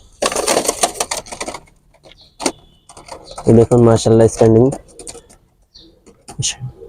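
A pair of pigeons, a male and a female, let loose close by, giving a few short bursts of wing flutter and a clear run of soft cooing, with someone talking briefly over them.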